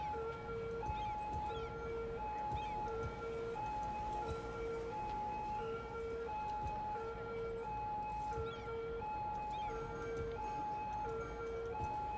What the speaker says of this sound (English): it is quite annoying, the sound of the police cars